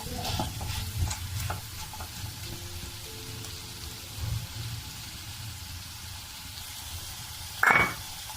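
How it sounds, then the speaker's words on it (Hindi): Chicken with carrots and capsicum frying in a pan, a steady soft sizzle with occasional stirring scrapes, a louder clatter near the end; no talking. "इसको ज़्यादा नहीं पकाना है, बिल्कुल थोड़ा सा फ्राई करना है।"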